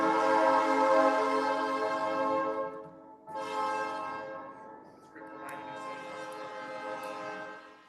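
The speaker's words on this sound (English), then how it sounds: "Hold for a train pause." A train passes outside a city council meeting in Lebanon, Oregon, its loud, sustained multi-tone horn blowing in three long blasts with short breaks, fading slightly between them.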